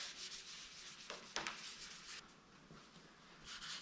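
Fine 2000-grit sandpaper rubbed by hand over a decal on an Oliver 1850 tractor panel, giving soft, quiet rasping strokes with a brief sharper scrape partway through.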